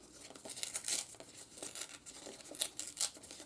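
Paper torn by hand in small pieces for a handmade nativity stable card, a string of quiet close rips and crinkles with short pauses between.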